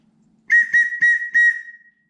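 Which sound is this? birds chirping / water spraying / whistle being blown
whistle being blown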